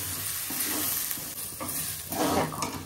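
Rice and lentils stirred in a hot pan, a steady scraping and sizzling with soft spoon strokes and a brighter burst of frying near the end, close and alone.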